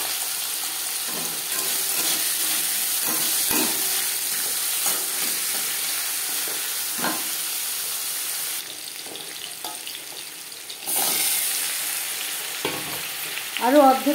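Potatoes frying in hot oil with whole cumin seeds, a steady close sizzle with occasional scraping stirs, briefly quieter for a couple of seconds before the frying noise swells back.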